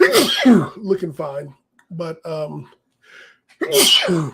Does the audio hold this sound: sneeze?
yes